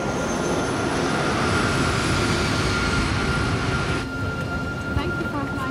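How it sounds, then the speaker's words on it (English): A Turkish Airlines airliner on final approach into the new Istanbul airport gives a steady, loud engine and airflow roar from inside the cabin, easing slightly near the end, with a voice speaking over it. "we are now making our final approach into the new Istanbul airport."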